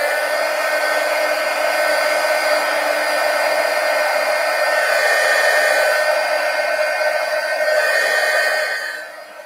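A hair dryer runs at a steady, loud whine while drying black acrylic craft paint on sketchbook pages, then winds down at the very end.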